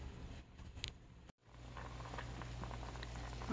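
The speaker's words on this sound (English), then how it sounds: "All right, we are now boiling." Cabbage boiling in a pot while being prepared for canning: a soft bubbling, spattering patter with a steady low hum, fairly close, briefly interrupted by a clunk midway.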